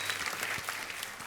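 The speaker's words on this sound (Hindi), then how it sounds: "तो एक बार जोरदार तालियां हो जाए पहले उनके लिए" A television comedy studio audience at The Kapil Sharma Show gives a brief burst of applause, a soft dense patter of clapping heard from a distance.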